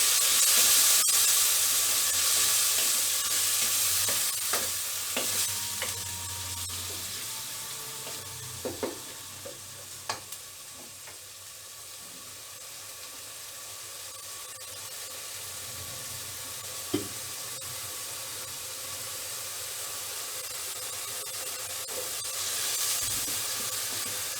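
Spices sizzle in hot oil in a pan for a spicy Kerala fish curry, a steady hiss with a few small pops and stirring scrapes throughout.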